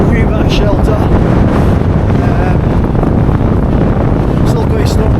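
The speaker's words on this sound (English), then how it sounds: "Still quite strong winds, but not as bad as it was back there for sure." Strong wind on an exposed mountainside, a loud constant roaring buffet of gusts against the microphone, with faint voice-like traces underneath.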